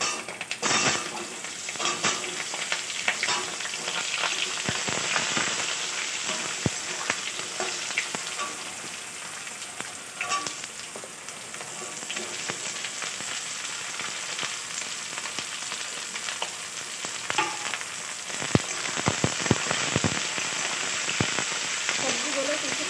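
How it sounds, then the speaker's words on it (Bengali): Carrot, potato, pumpkin and yardlong beans frying in a pan for vegetarian dalia khichdi, a sustained close sizzle broken by irregular clicks and scrapes of stirring, with some quieter and louder stretches. "সবজিগুলো কিছুক্ষণ ভালো করে ভেজে নেব"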